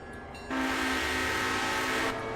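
A train running in the Railroader railroad simulation game, a loud, steady rumbling roar that starts abruptly and holds for about a second and a half before cutting off, with no talking.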